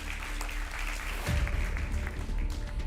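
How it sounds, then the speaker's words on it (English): A school debate audience claps for one of the competing teams. The applause sounds muffled and fairly distant, with a low rumble and crowd noise underneath. "A round of applause for them."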